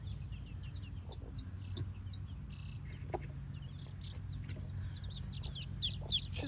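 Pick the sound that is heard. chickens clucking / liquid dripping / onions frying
chickens clucking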